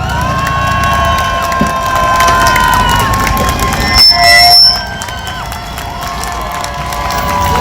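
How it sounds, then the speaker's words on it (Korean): An auditorium audience cheers and applauds loudly to welcome a professor onstage at a Korean lecture event, a dense roar of clapping and shouting voices that holds throughout, with a brief swell midway and music-like tones. "이영재 교수님 나오실 때 큰 박수로 환영해 주시기 바랍니다"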